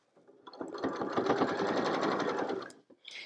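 A sewing machine stitches a fabric bowl cozy around a straight edge, its steady close whir swelling louder as the needle passes through the thicker seam allowance, then stopping briefly before a short burst at the end.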